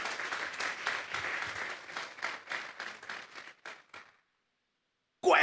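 A church congregation applauds during a sermon, a lively burst of clapping that thins into scattered claps and stops after about four seconds, followed by silence and then a sudden loud sound at the end.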